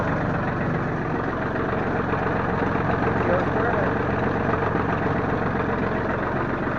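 Engine of a John Deere 4310 compact tractor idling steadily nearby, a continuous low rumble holding an even drone with no changes in pace.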